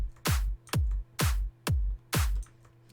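Layered electronic clap samples fire in a steady beat over a deep kick drum, five punchy hits, each a bright snap fused with a booming low thump, close and without voices.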